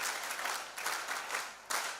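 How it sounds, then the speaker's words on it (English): Audience applause at a health sciences institute graduation ceremony, a steady wash of many hands clapping at moderate distance with a sharper swell near the end, no talk over it. "We are clapping for two people, the principal and the chairperson governing council."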